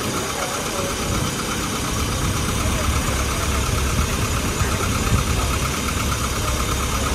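A tuned engine from the CMC Riviera Run, now set up at two litres, runs at a steady idle with a continuous loud, even rumble and faint mechanical rattle throughout, with a voice speaking over it.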